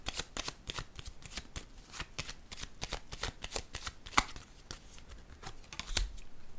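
Cards shuffled and laid down during a tarot-style reading, a close, quick run of crisp riffling flicks and taps, with a sharper slap as a card is set down and softer handling toward the end.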